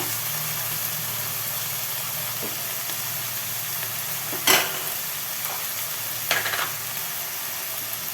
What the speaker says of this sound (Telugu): గోరుచిక్కుడుకాయ, ఉల్లిగడ్డలు, రొయ్యలు ఒకేసారి వేగుతాయి